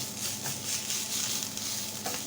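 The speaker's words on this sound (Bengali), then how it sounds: "বন্ধুরা দেখেন শাকটা সুন্দর ভাজা ভাজা হয়ে গেছে আর কমে একদম একটু হয়ে গেছে" Greens fry in a pan, giving a steady, close sizzle with faint crackles and light stirring noises throughout, with no talking.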